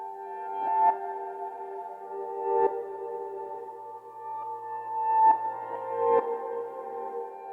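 Piano sample pitched up an octave and reversed, washed in reverb and chorus-like modulation; soft tones swell in backwards and cut off in repeated rising phrases, quiet and airy with no voices.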